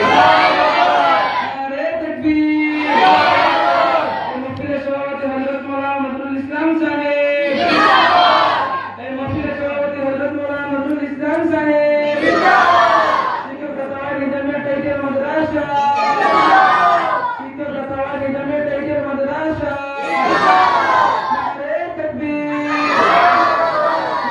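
A rally crowd chants Allahu Akbar in loud unison bursts, answering a leader's repeated Nara-e-Takbir call in a steady call-and-response rhythm, with a lone voice between the chants.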